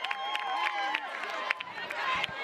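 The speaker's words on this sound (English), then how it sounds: "It's a lively crowd on a Friday night." A lively Friday-night crowd at a college softball game between Duke and UCF chatters and cheers in the stands, a dense, busy murmur with scattered shouts and whistles, fairly close and steady.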